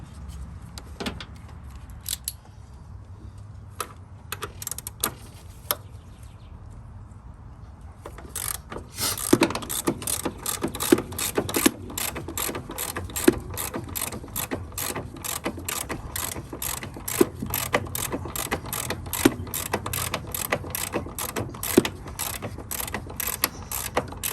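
A ratchet wrench loosens a bolt on a Honda Civic's passenger-side upper control arm, its rapid clicking pawl growing louder and more continuous partway through, with faint mechanical clatter beneath.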